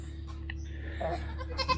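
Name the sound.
goats bleating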